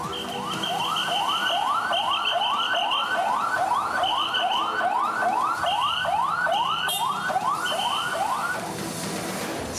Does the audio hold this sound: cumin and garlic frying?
no